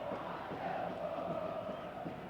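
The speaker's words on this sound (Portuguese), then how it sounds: "Torcida uniformizada do São Paulo já começa a fazer uma festa bonita aqui no estádio do Pacaembu." São Paulo's organized supporters roar and chant in the stands at Pacaembu stadium before a youth cup football match, a steady, distant crowd din that holds evenly throughout.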